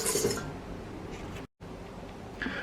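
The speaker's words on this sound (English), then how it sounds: "now that we got all our dry ingredients in the bowl, we can mix it a little bit before we get our wet ingredients in there" Dry pumpkin spice muffin ingredients being mixed in a bowl: light clinking and scraping of a utensil against the bowl, close and moderately loud, with a brief drop to silence partway through and no talk.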